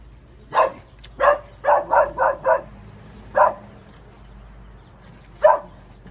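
Pet dog barking nearby outdoors, eight sharp yips in a quick cluster, then two more spaced out, loud against a quiet low hum.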